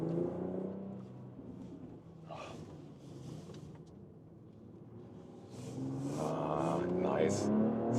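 A BMW X3 M50 or Mercedes-AMG GLC 43 accelerates on a slightly wet road with slight rear wheel spin. Its engine rumbles under wind noise and swells louder as revs climb toward the end.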